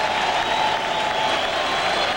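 Mets fans in a packed stadium crowd at a Yankees–Mets baseball game roar steadily throughout, a dense, continuous wash of cheering and applause with no break.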